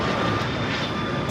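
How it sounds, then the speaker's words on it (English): A Gulfstream G500 business jet takes off at Los Angeles International Airport, a brief, loud and steady engine roar. "This is a Gulfstream G500 taking off to Scottsdale"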